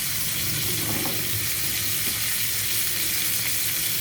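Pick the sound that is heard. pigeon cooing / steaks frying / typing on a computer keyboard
steaks frying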